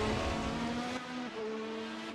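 Race cars brake into the first corner at Interlagos, their high-revving engines whining loudly with a steady pitch, then a sharp downshift and the revs climbing again.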